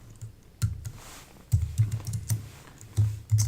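Computer keyboard typing while an admin password is entered during Hyper-V virtual machine setup, heard as quick bursts of close, dry key clicks in short clusters with pauses between them.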